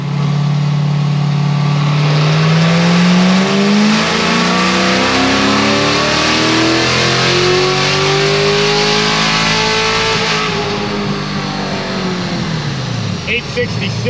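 A C7 Corvette Z06 revs hard on a dyno, its loud engine note sweeping steadily upward in pitch for about ten seconds before falling away, close and continuous.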